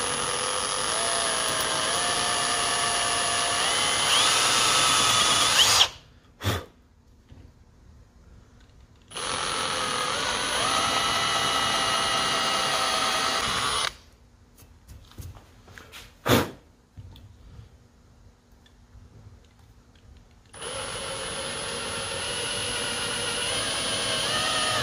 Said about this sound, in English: So I'm going to try to drill this out as best as I can